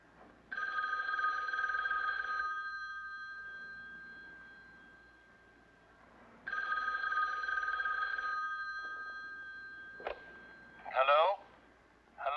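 Old-fashioned telephone bell ringing in two long bursts separated by a pause, clear and fairly close, followed by a click as it is answered and a brief voice.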